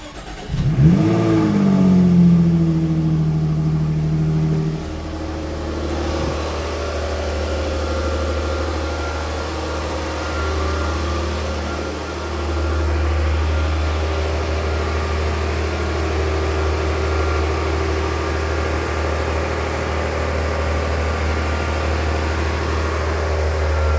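A 2017 Jaguar F-Type with its hood open fires up in a sharp, loud rev that settles within a few seconds into a steady, rumbling idle continuing for about twenty seconds.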